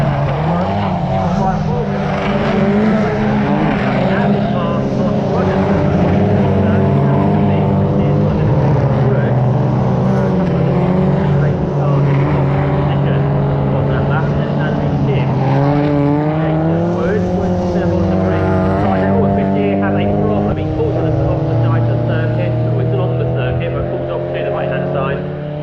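Classic stock hatchback race cars roar along the straight at Snetterton, their engines droning loudly and continuously with rising and falling pitch as they jostle for position, under a commentator talking over the noise.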